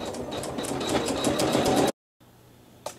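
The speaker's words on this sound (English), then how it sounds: "I'm going to bring my bobbin thread to the top and begin the quilting stitch." A sewing machine running a quilting stitch on a Double Irish Chain quilt block: a steady, close mechanical whirr for about two seconds that stops abruptly, followed by a faint hum and a small click.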